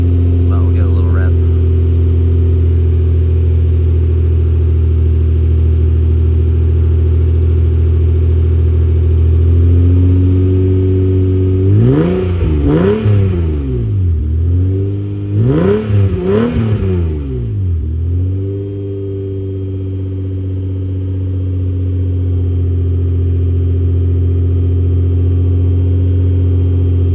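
A Toyota Supra MK4 fitted with a 3-inch HKS exhaust idles steadily, then is blipped twice in quick succession, the engine note climbing and falling sharply each time before settling back to a smooth, close idle.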